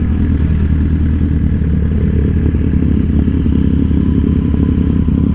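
A dirt bike motorcycle rumbles loud and steady nearby, its engine drone constant throughout with faint clatter over it.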